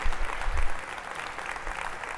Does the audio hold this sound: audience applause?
yes